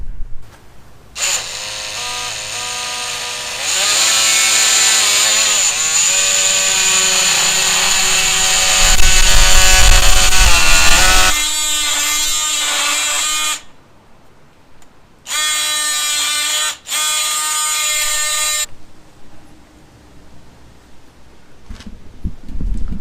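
A power tool cuts stone with a loud, high whining grind that rises and changes pitch as it bites in, stops, then runs in two shorter bursts, close by with no talk.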